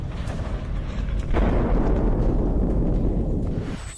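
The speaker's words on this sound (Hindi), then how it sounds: "जिसके बाद वहां धमाके गूंजने लगे।" Explosions at a petrochemical plant in Asaluyeh, Iran, come through as a continuous heavy rumbling roar that swells sharply partway through and holds before tapering off, with no voices.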